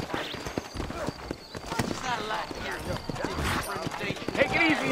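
Horses in the Western video game Red Dead Redemption trot with rhythmic clip-clop hoofbeats and a neigh near the end, heard under continuous talk from male characters.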